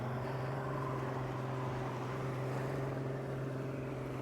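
A motorboat near a beach hums with a steady low engine drone, a continuous mid-distance rumble that holds even without rising or fading, with no voices over it.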